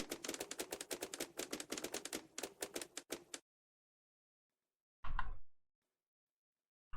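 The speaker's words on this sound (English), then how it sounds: "can you hear the flashlight clicking on and off?" Clicks from a flashlight being switched on and off in The Long Drive come as a rapid run of sharp taps for about three seconds, then silence, then one louder click-like burst.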